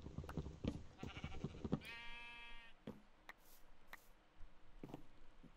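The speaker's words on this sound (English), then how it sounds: "Got quite a few sheep out here now too." A sheep bleats once in Minecraft, a clear, buzzy nasal cry following soft clicking game sounds, with a few sharp ticks afterward in an otherwise quiet scene.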